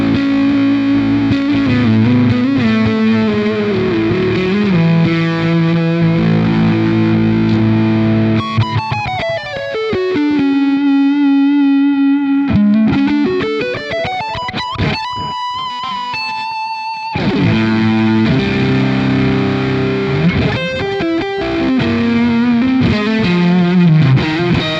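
Heavily distorted electric guitar played through the Lead Bite USA amp simulator, loud and continuous riffs with sustained chords and a sliding lead line, no voices.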